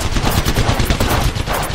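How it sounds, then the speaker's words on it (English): Rapid, continuous gunfire from a first-person shooter game, a dense stream of close, loud shots rattling nonstop with no pauses and no talking. "Taking fire."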